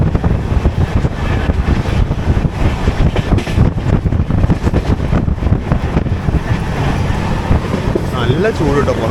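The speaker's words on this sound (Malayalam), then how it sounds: "നല്ല ഭയങ്കര ചൂട് കാറ്റാണ് വരുന്നത്." Hot wind roaring in through an open window of the moving Coimbatore–Hisar AC Express, a loud, buffeting rush with rumbling train noise throughout and a voice speaking over it.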